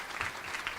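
Dense audience applause at an awards ceremony, a continuous close wash of many clapping hands filling the whole brief moment.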